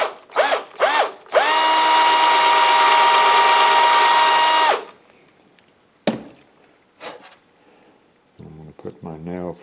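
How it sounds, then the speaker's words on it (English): A close, steady power drill whirring through a wooden carving for about three seconds, preceded by short motor blips and followed by clicks and a brief bit of talk. "I'm going to take my drill, I'm going to just drill right through this area right here"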